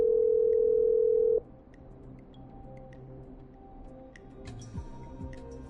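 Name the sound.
telephone dialing in Killer Frequency video game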